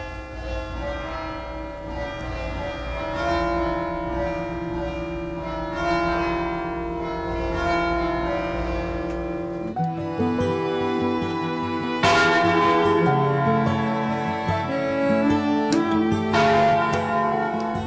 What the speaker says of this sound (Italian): alle 17:25 suonerà la melodia a martelli, Pietà Signora